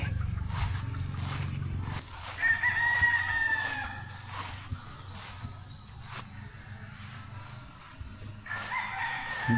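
A rooster crows twice, the long drawn-out calls ringing over a steady outdoor hum with faint clucking nearby.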